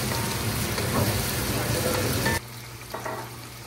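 Onions frying and being stirred in a pan for a gongura mutton dish, a dense steady sizzle that drops abruptly to a quieter crackle partway through, with no talk over it.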